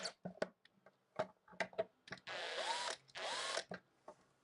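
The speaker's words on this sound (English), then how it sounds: "So much faster with power tools." A power tool drills and drives fasteners while a 3D printer is assembled, two sustained whirring bursts among clicks and knocks of parts being handled, heard up close and fairly quiet.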